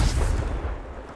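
Confringo fire spell blast in Hogwarts Legacy: a single loud, booming burst of fiery impact that rumbles and trails off over about a second, with no voices.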